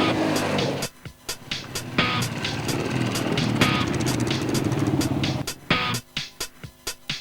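An enduro motorcycle engine revs hard and close, a sustained roar bracketed by sharp staccato blips and bursts of throttle, with no voices.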